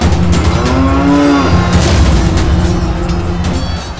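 A herd of cattle lows loudly and close by, with overlapping drawn-out moos rising and falling over deep rumbling from the animals and no speech.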